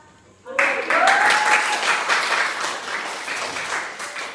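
Classroom students break into applause after a brief quiet start, a sudden burst of dense clapping that keeps going steadily, with a voice briefly rising over it near the beginning.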